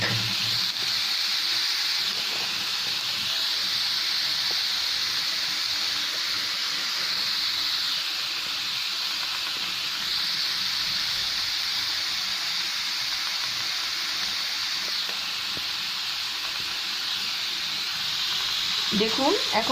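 Gourd leaves frying with onion and garlic in a pan, a steady, close sizzle that holds loud and even throughout with occasional stirring.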